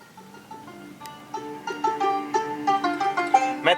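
A factory-fitted sound system in a 2025 Honda Amaze plays melodic music inside the car, a steady run of bright tonal notes that swells gradually louder over the clip, with no talking.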